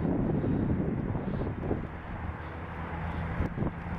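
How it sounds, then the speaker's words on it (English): Breezy wind rumbles against a microphone outdoors at the John Heinz National Wildlife Refuge near Philadelphia, a steady low buffeting that fills the short stretch with slight swells. "so you'll probably hear some wind noise"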